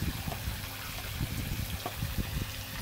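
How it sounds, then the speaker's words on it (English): Water splashes in a backyard pool on a very hot day, with a run of close, irregular sloshing bursts over a continuous watery background. "Here, let me splash this more."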